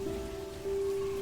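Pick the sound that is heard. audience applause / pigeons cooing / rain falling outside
rain falling outside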